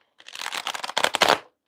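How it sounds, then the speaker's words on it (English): A deck of angel answer cards is shuffled by hand in one quick, riffling burst of papery flutters lasting just over a second, close and clear with no talking. "Try to shuffle cards, and then they just shuffle into each other,"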